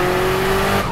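A loud, raspy engine drone from the straight-piped exhaust of a 450 hp built SR20 turbo Nissan S15 Silvia, steady and close, with a buzzing tonal hum held throughout the short moment.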